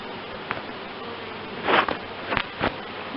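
Bees buzz close by while a beehive is opened for inspection, a steady droning hum with several louder individual bees passing near.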